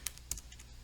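A few quick button presses tap on a calculator keypad, two or three sharp, light clicks close by within a second, faint and otherwise quiet.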